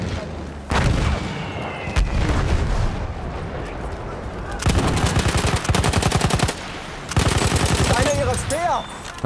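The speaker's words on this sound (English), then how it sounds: "That first shot didn't go too well." Battlefield 1 multiplayer gunfire on the Hellriegel 1915 map, with dense bursts of automatic fire and sharp shots that come and go in loud volleys, heavy stretches in the middle and near the end.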